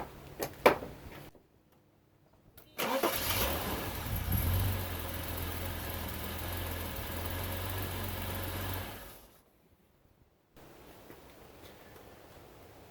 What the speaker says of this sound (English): the car starts fine if it has run once before